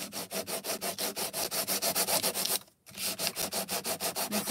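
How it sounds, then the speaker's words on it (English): A small sandpaper block sanding a sheet of acetate in quick, even back-and-forth strokes, a close, crisp rasping rhythm with one brief pause midway. "you can actually sand that and it turns from translucent to opaque white"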